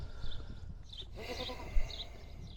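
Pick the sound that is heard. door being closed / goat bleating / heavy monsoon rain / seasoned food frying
goat bleating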